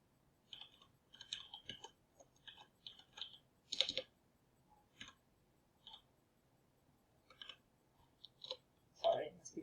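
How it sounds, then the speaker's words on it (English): Quiet, scattered keystrokes on a keyboard, tapped slowly in short irregular clusters with gaps between them, close but soft, plus a louder rustling knock near the end. "Sorry, it must be frustrating you, my awful typing."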